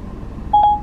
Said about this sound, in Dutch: Hey Siri. Bel Tammy.